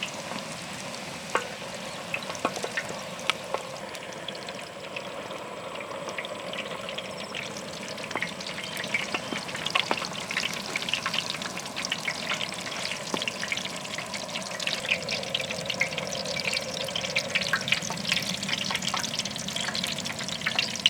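Chicken samosas deep-fry in a pot of hot oil with village-style outdoor cooking, making a steady loud sizzle and bubbling crackle that carries on alone for the whole stretch, with occasional stirring clinks.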